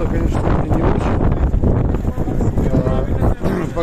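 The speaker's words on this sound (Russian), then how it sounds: "Погода не очень, ветер порывистый, холодный." Gusty, cold wind outdoors battering the microphone in strong, uneven buffets, with a voice faintly mixed in under the rumble.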